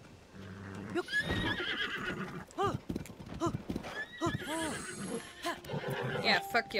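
Horses whinny and neigh repeatedly at close range in The Legend of Zelda: Tears of the Kingdom, with hoof clip-clops and rustling around them in a game-like mix.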